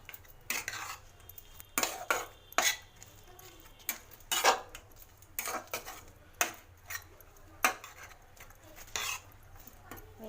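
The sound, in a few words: stirring cabbage rice with spices in a pan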